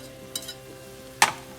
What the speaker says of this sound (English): We're gonna cook this down until all the liquid evaporates.